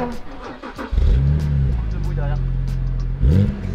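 A BMW Z4's engine is revved up nearby, two rising roars with a steady idle rumble between them, and brief voices just before the first rev.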